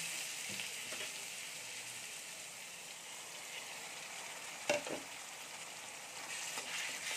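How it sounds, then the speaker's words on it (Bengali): Ginger and green chilli paste sizzles steadily in oil with fried garlic for a home-made masala mutton curry, a continuous hiss of frying with a couple of brief stirring knocks partway through. "রসুনটা ভাজা হয়ে গেছে, এবারে আদা আর কাঁচা লঙ্কার পেস্টটা দিয়ে দেব।"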